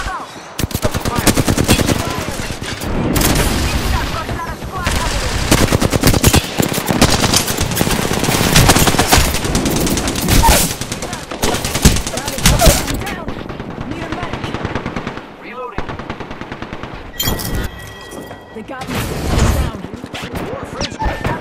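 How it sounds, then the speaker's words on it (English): Sustained automatic gunfire from an Apex Legends battle, dense rapid bursts nearly nonstop and loud in the foreground, with brief pauses and scattered game sound effects between volleys. "Opening fire on the enemy."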